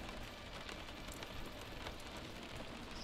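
Steady rain in the Daggerfall Unity video game, a continuous even hiss of falling drops with no talk over it.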